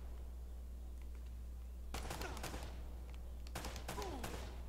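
Gunfire in Uncharted: Drake's Fortune, sharp bursts of rapid shots in two clusters after a quieter start, over a steady low hum.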